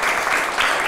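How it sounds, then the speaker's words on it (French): Applause from a crowd of schoolchildren at a school gathering in Gisenyi, Rwanda, a steady dense patter filling the whole second at close range with no break. "Applaudissez pour qu'on vous entende."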